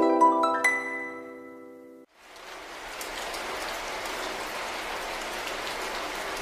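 After a short bright chime fades out, rain begins falling, a steady, even hiss of drops on a surface that continues to the end.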